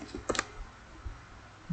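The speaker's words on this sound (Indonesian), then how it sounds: "kita ketik lautan" Light keystrokes on a computer keyboard while typing a file name during map digitising work: a quick cluster of clicks, then a couple of sparse taps in a quiet room, close and soft.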